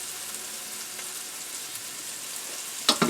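Shallots and garlic fry in a pan with a soft, steady sizzle, quiet and continuous, and a brief louder crackle or stir near the end.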